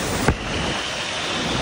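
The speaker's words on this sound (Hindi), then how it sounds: "बड़ा खतरनाक झरना है भाई। ये देखो पानी की स्पीड।" Fast-flowing water pours over a dangerous waterfall, a dense, loud, continuous rush heard close up with wind buffeting the microphone.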